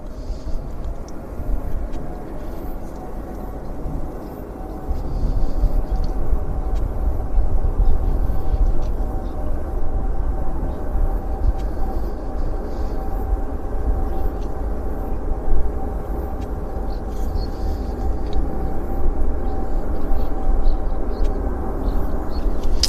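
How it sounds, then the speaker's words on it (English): An Air Canada Boeing 777-300ER, the largest jet it flies from Vancouver, arriving at the airport with a steady low engine roar that rises slightly and holds as the aircraft passes, with no talk over it. "this is the largest aircraft that Air Canada operates out of Vancouver"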